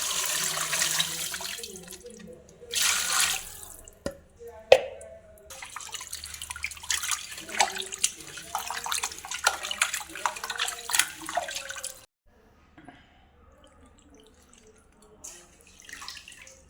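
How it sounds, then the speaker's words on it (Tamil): Water poured and splashed while raw chicken pieces are rinsed in a container, with bursts of running liquid, sloshing and drips, then quieter handling toward the end. "தண்ணி ஊற்றி அலசிக்கலாம்"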